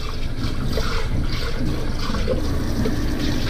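Water poured into a French press while making coffee, a steady loud rushing pour close by, continuous throughout with no talking.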